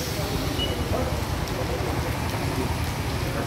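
Rain falls steadily and densely at a fuel pump with a car nearby, a constant hiss and patter that fills the scene without pause.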